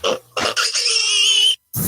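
A pig grunts and oinks in a short, loud burst of a few squealing calls within a radio advertisement, followed by a brief pause and another harsh snort.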